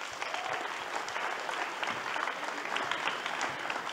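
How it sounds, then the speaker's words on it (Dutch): Steady applause fills the room from a conference audience welcoming Christien Bok at a day-two education congress opening, dense and continuous clapping throughout without talk. "Een hartelijk applaus voor Christine."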